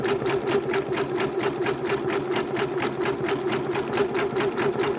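A sewing machine stitching a blanket-stitch heart applique on red fabric with gold thread, with a steady, fast, rhythmic run of needle strokes held at an even loudness throughout.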